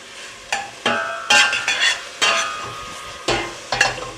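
Meat browning in a hot pan for a Guinness stew, with steady sizzling and frying broken by louder bursts as the pieces are stirred and turned, close and clear.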